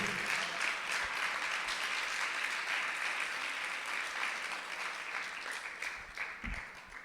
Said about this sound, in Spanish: ¿Por qué no le damos un fuerte aplauso al Señor?